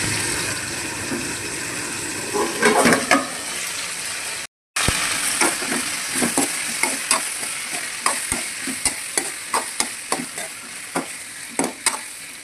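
Sliced drumstick and onion fry in oil with mustard seeds and dried chillies. A continuous close sizzle is punctuated by a regular rhythm of spoon-stirring scrapes and taps, with a brief silent cut near the middle.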